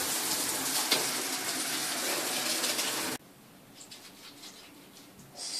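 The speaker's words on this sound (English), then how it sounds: "So now I'm gonna wet my hair" Shower water pouring onto hair: a loud, close, steady hiss of spray that drops suddenly to a softer trickle partway through, then swells slightly again, with no talk.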